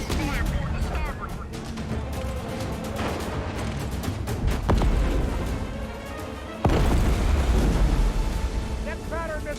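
Depth charges are fired from a World War II warship, heard as heavy booms and blasts over dense, rumbling battle noise at sea, with shouted orders and voices mixed throughout.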